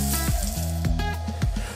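Cured, smoked bacon sizzles in an oven at 200 degrees, giving a steady close crackle and hiss that runs the whole time alongside a tonal background, with no voices.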